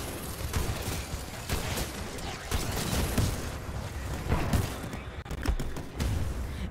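Rapid bursts of R97 submachine gun fire in Titanfall 2, dense overlapping shots with explosions and mechanical clatter in a busy firefight, loud and continuous throughout.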